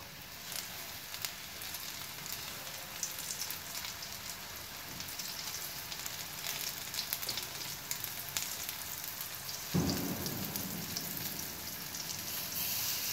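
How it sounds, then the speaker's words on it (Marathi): Steady sizzling and crackling of vegetables and potatoes shallow frying in hot oil on a tawa over low heat, continuous throughout with a brief louder spatter near the end. "बारीक गॅसवरती आपण फ्राय करून घ्यायची"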